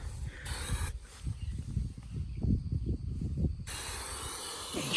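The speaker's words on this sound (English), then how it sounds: "I've got the nozzle set on mist." A garden hose nozzle set to mist sprays water onto layer feed for chickens, a soft steady hiss at the start and again at the end, with low rumbling and shuffling between the sprays.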